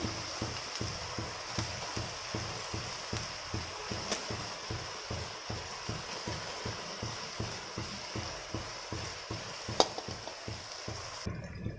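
Marinated barramundi pieces for a pandu gappa fish curry go into a pan of lightly browned frying onions, giving a steady sizzle broken by regular soft scraping strokes through the whole stretch.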